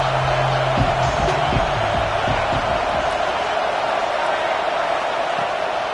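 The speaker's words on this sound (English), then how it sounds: "Listen to this crowd just shaking the girders of this place trying to help their defense" Stadium crowd noise at a USC vs Purdue college football game as fans roar to help the defense, a constant loud wash of massed voices that stays even throughout with no break.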